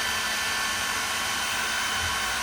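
A Xiaomi H500 hair dryer blowing hot air, a constant whooshing fan roar that stays steady and close the whole time with no talk over it.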